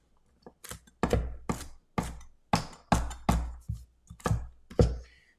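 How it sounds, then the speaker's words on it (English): Knife chopping carrots on a cutting board while making a vegetable broth, a steady run of about a dozen sharp, close thunks in uneven rhythm with short pauses between strokes and no talking. "I'm chopping up some carrots right now."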